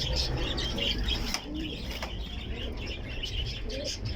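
Egyptian pigeons coo softly among chirps and brief wing flaps, close by, over a steady low background rumble.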